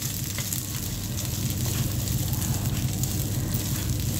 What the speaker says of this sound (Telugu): ఇప్పుడు ఈ మనం ఎగ్ మిశ్రమం అంతా కూడా ఈ రైస్కి పట్టేటట్లు బాగా కలుపుకోవాలి